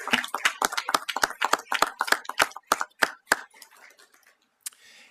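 A small council-meeting audience claps for Harriet, the city's mayor for the day, a sparse run of distinct, close hand claps that thins out and stops after a few seconds.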